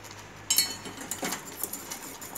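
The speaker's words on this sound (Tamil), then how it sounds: "அதனால் கையை விடாமல் இப்படி கிண்டிக்கிட்டே இருக்கணும்" A spoon stirs health mix (sathu maavu) porridge for babies in a pan, giving a few light metallic clinks and soft scraping taps, close but fairly quiet.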